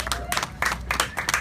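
Audience at an award ceremony breaks into brisk, close applause, a dense patter of claps in several quick bursts over about a second and a half.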